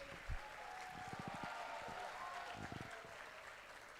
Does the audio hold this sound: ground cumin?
no